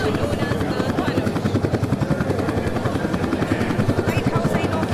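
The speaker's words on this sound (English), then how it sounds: "3 light compact ஹெலிகாப்டர்ஸ்களை கொண்ட சங்கம் அமைப்பு இதோ உங்கள் முன்னால்" Three light combat helicopters fly past together at a Chennai air show in 2024, a loud, steady rotor thrum with rapid blade chop running throughout, close by, while a commentator's voice speaks over it.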